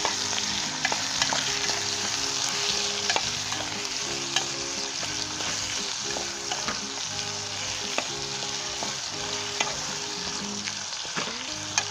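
Potato, green chili and brinjal fry in a pan with a loud, continuous close sizzle and frequent stirring clicks and scrapes, and no voices.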